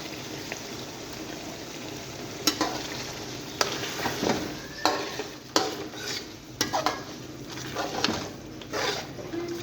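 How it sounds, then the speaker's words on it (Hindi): Beef karahi with yogurt frying in a pan, a steady close sizzle broken by repeated scraping stirs and clinks of a spoon against the metal, fairly quiet overall. "दही मिक्स करके हमने दही को भी भूनना है इसके अंदर।"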